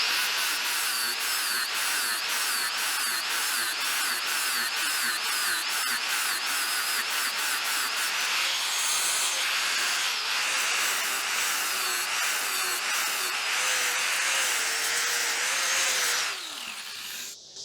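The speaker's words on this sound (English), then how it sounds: "Then we'll turn it over and actually do the sharpening." A grinder or file scrapes across a Murray push mower blade, first in quick rhythmic strokes, then as a continuous harsh rasp that winds down at the end.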